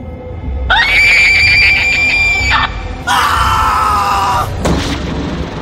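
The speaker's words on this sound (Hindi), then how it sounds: "वही बूढ़ी औरत रजत की आंखों से सिर्फ 2 इंच की दूरी से उसे देखकर जोर से चीखी।" An old woman screams loudly at close range as a horror sound effect, two long piercing shrieks followed by a shorter burst, with no other talk.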